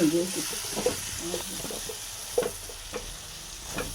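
Spice powders are stirred into sambar frying with tomato, onion, mango and drumstick, a soft continuous sizzle under occasional spoon scrapes and light taps, close and fairly quiet, with a faint voice at the start.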